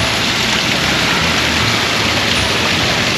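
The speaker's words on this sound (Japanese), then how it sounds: "なんか綺麗な滝で" A garden waterfall at HANABIYORI in Yomiuri Land gives a steady, dense rush of falling water, loud and close, with no pauses across the short stretch.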